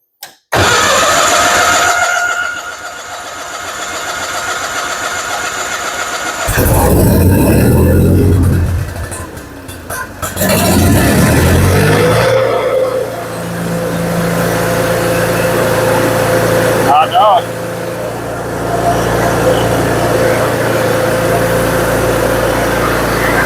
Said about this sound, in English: Now, it's going to crank over a little bit because the bolt is empty.